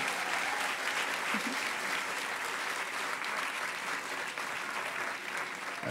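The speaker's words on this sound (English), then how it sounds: "A round of applause for the AV guys real quickly." An audience at a hacker conference closing ceremony gives a round of applause, steady continuous clapping from a large crowd, moderately distant and even throughout, with no talk over it.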